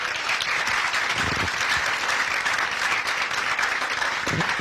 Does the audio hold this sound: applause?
yes